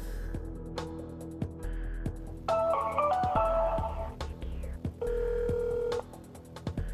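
A telephone rings repeatedly with no answer, electronic ring tones in bursts over a low background hum.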